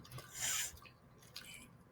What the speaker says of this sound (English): a lot of the water is running off